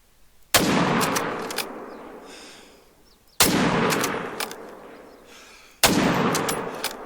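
Three loud, sharp rifle shots in theHunter: Call of the Wild, spaced a few seconds apart, each with a long rolling echo that fades before the next.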